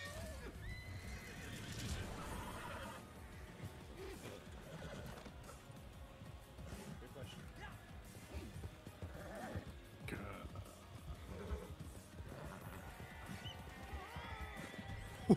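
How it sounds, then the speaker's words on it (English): A frightened horse neighs in a video game, loud whinnies rising over a busy mix of game sounds and hoofbeats, with a voice occasionally audible. "Why is my horse getting fucking freaked out?"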